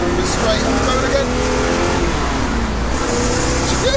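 A 1969 Pontiac Trans Am Ram Air III with a 6.6L engine roars loudly and continuously as it accelerates through a downshift into third for a corner, heard from inside the car, dense and close.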